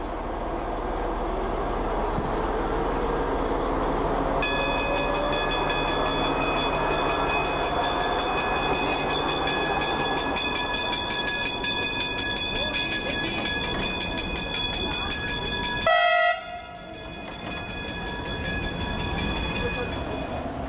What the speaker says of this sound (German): Entlang des Mains rollt bis zum Eisernen Steg ein alter Zug.